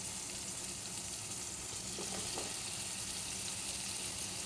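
Food sautés with a pinch of turmeric in a pan, giving a faint, even sizzle that runs steadily throughout, with a couple of soft knocks midway and no talking.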